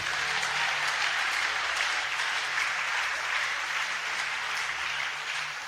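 A church congregation applauds and cheers for the Lord during a prayer service, a dense, sustained wash of clapping that stays loud and steady for the whole stretch.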